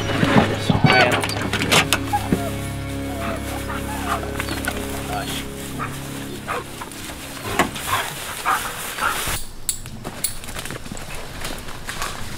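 A Grand Knight female hunting dog on a coon hunt whines and barks close by, with high whimpers and yelps over shuffling movement noises and a low hum that fades partway through.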